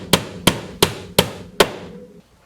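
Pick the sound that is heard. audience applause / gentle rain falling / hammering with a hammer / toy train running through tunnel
hammering with a hammer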